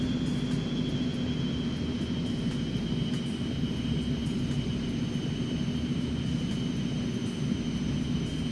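An Aerobask Eclipse 550 business jet taxis across runways in the X-Plane 11 simulator, its engines holding a steady high whine over a constant low rumble, with no voices.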